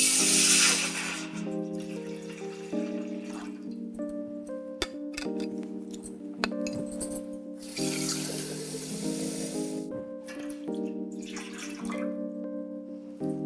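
Water is poured into a cooking pot for a Vishu payasam, coming in gurgling bursts with a ringing resonant tone that shifts as the pot fills, and nobody speaks.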